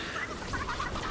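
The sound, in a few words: chicken clucking in Fortnite video game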